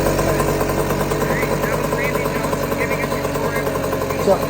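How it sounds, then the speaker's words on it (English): A carburetted engine settles into a steady, even idle just after starting, a continuous close mechanical hum that holds level throughout while voices talk over it. "once it's started, it starts idling"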